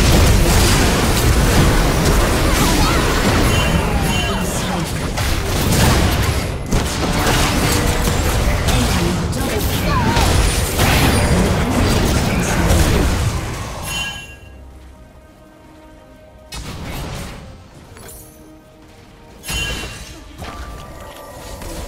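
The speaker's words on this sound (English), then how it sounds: "Your turret has been destroyed" Turret destruction in League of Legends: a loud, dense rumbling burst of crashing, crumbling impacts sustains for several seconds, then cuts to quieter game ambience with a couple of sharp hits afterward.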